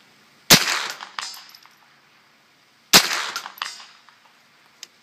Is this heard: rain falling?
no